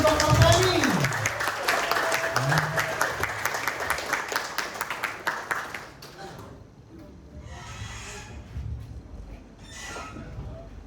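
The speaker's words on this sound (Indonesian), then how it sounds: "mari kita tekan ego kita, tunjukkan respect kita, beri aplaus yang meriah buat Ibu Dr. Penny" An indoor audience at a company event in Karawang gives a lively round of applause, loud at first and then thinning into scattered clapping, with a voice talking over it.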